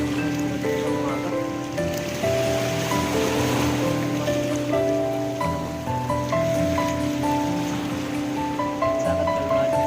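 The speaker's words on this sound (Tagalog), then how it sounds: "Dagat kalmado." Calm sea washing onto a beach during a solo seaside camping trip in the morning: a steady, continuous wash of surf with other tonal sounds layered over it and no talking.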